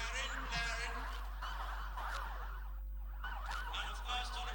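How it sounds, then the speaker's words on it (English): A wailing emergency siren sounds at a Democracy Day parade, sweeping up and down continuously and steadily over a constant low hum from the broadcast feed, fairly prominent throughout. "The siren blaring."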